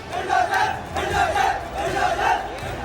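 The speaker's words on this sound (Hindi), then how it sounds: "भीड़ उग्र हो रही है।" An agitated protest crowd in Guna, Madhya Pradesh, chants and shouts slogans in rhythmic surging waves, loud and massed, following stone-pelting violence during a Hanuman Jayanti procession.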